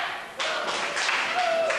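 A wrestling crowd at a Dingo versus Makaze match chants for Makaze in rhythmic bursts of voices and claps, loud and close with arena echo.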